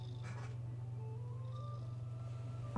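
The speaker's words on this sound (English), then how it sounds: "Listen to him purring." A pet cat purring close by, a soft steady low rumble running continuously under quiet background tones, with a brief click near the end.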